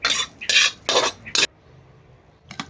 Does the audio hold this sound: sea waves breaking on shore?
no